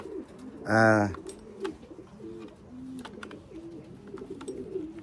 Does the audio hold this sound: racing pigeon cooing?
yes